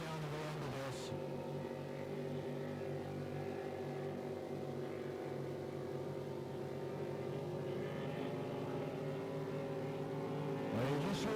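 Hydroplane race boat engines drone steadily across the water at the Pateros Hydro Classic, a continuous layered roar from a distance that rises as a boat accelerates near the end, with faint announcer talk beneath.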